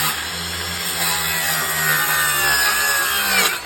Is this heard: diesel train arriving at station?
no